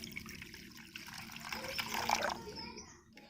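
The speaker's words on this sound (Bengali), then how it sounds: "আমি এই লেবুর রসটাকে একটা বাটির মধ্যে ঢেলে নিচ্ছি" Lemon juice poured from a small bowl into a larger bowl, a soft continuous liquid trickle and splash that fades out, with faint room noise.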